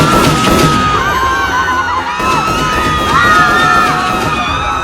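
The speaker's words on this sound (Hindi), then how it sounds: "गोलियों की आवाज के साथ साथ लोगों की चीखों से पूरा जलियांवाला बाग गूंज उठा था।" A reenactment of the Jallianwala Bagh massacre fills the air with a loud crowd, screams and wailing cries rising and falling, with sharp bangs mixed into the dense, chaotic noise.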